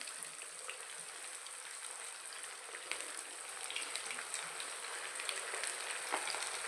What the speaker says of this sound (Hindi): तो मीडियम फ्लेम पे ही फ्राई करिएगा तो बहुत ही अच्छा और क्रिस्पी बनेगा ये।